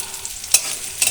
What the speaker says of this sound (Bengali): চাল, কাজু বাদাম আর কিশমিশটাকে একসাথে দিয়ে এটাকে একটু নেড়ে চেড়ে নিচ্ছি